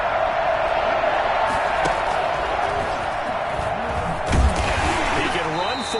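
Stadium crowd roar in Madden 21 on PS5 during a Houston Oilers at Houston Texans game, a loud, sustained wash of cheering with a few thuds, under ongoing commentary.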